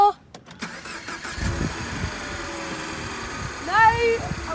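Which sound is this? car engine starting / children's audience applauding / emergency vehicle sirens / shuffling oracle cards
car engine starting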